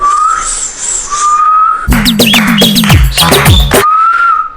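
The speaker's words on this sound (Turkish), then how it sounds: "Normal ıslık çalabiliyor mu? Nasıl? İçine doğru çalabiliyor mu?" Someone whistles a thin, wavering tone by inhaling, breaks off for a burst of scratchy clattering noise, then resumes whistling.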